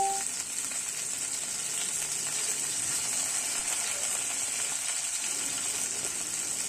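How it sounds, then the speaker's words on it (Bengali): Paneer fries in oil in a kadai with a steady, even sizzle that holds at moderate volume throughout, close by and without any talking. "আর এখানে কড়াই আমি তেল দিয়ে দিয়েছি পনিরটা ফ্রাই করার জন্য।"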